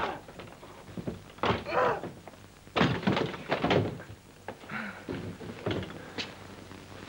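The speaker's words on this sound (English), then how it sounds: "break in the door." Heavy thumps of a door being forced and broken in, several loud blows spread across the scene with a voice briefly exclaiming between them.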